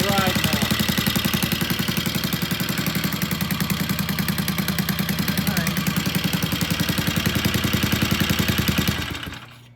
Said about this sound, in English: That's pretty normal British noise coming out of the primary.